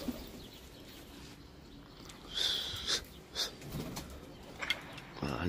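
Pet pigeons stirring inside their coop, with faint soft coos and breathy wheezing calls over a quiet background, plus a few brief fluttery rustles near the end.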